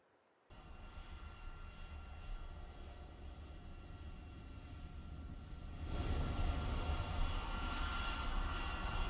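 An aircraft engine in the War Thunder combat flight game drones steadily and close, with no talk, then swells louder and harsher partway through as the power rises.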